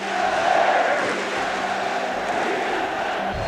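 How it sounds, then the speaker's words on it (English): A large crowd in the old Boston Garden arena roars in a sustained, muffled wash of many voices, steady and loud across the whole stretch, with no clear rhythm of a chant standing out. "You hear the crowd is chanting to the Sixers? Beat L.A."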